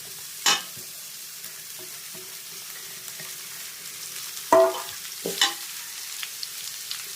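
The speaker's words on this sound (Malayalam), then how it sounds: "വാടിക്കഴിഞ്ഞപ്പോഴേക്ക് ഈ കൂമ്പരിഞ്ഞ് വെച്ചത് അതിനകത്തേക്ക് ഇടുക." Chopped banana blossom dropped into a pan of hot oil with wilting curry leaves for a Kerala thoran gives a faint, steady sizzle, broken by a few sharp stirring clatters.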